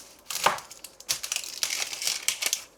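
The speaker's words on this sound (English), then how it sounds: "Let's cube up these onions first" Onions being cubed with a knife on a board, giving several crisp, crunchy chops with short pauses between them, close and fairly quiet, with no one talking.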